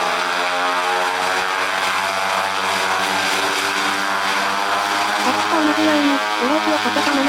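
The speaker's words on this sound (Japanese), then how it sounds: "ブレーキをかけたままエンジンを全力で回します。" The propeller engines of an airplane at Lukla airport run up to full power with the brakes held before takeoff, a loud, steady, close drone with layered harmonic tones rising slightly near the end.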